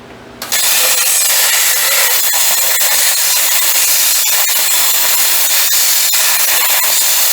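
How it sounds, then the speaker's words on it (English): A plasma cutter slices through a bent U-bolt on a homemade trailer axle, giving a loud, continuous hissing roar that starts abruptly and holds steady with faint crackles. "I had to cut that one, as y'all saw, with the plasma cutter because it was bent."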